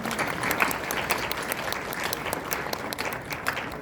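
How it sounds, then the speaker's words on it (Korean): Audience applause at a university graduation ceremony, even continuous clapping from a large crowd heard at a moderate distance without speech. "큰 박수 부탁드리겠습니다."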